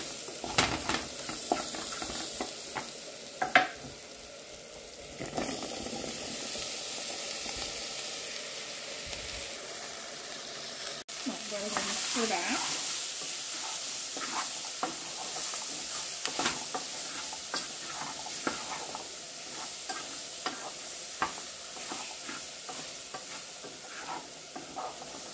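Onion and chayote sauté with annatto in a hot pan, giving a steady sizzling hiss throughout with intermittent scraping stir strokes, fairly close and moderate in level, with no talk.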